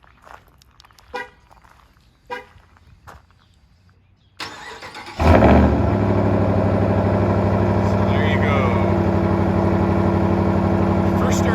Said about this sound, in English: I just want to show you guys a cold start on this one